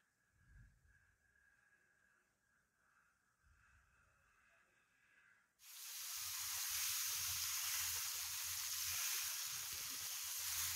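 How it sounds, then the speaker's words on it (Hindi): Hot oil poured over a Gujarati undhiyu dish sets off a sudden loud, steady sizzle after several seconds of quiet, and the hiss carries on to the end. "ऊपर से गरम तेल डाल देंगे"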